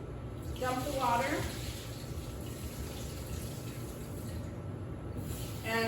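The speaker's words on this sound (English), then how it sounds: "Okay, I'm going to rinse, dump the water." Fresh stinging nettles get rinsed before cooking for breakfast tacos, with water sloshing and splashing, then a pour as the rinse water is dumped. A person talks over the steady watery noise.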